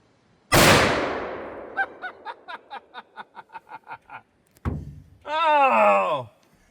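A .460 Smith & Wesson revolver firing a 325-grain bear load at an airplane window gives one loud, sharp blast with a long decaying tail, followed by a string of rhythmic chuckling bursts and an excited exclamation.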